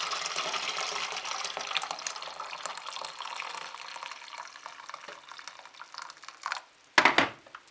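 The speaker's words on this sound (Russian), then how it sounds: "И наливаем кипяточка." Boiling water poured into a plastic cup, a close steady splashing stream that slowly fades, ending in a brief louder splash near the end.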